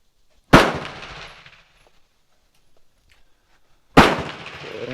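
Two sharp pistol shots fired outdoors about three and a half seconds apart, each a loud crack followed by a short decaying echo, with near silence between them.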